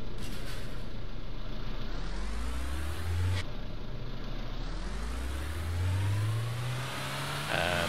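A video game car in Trader Life Simulator 2 revs its engine while stuck, pitch climbing and dropping in repeated surges with whining wheelspin, loud and continuous.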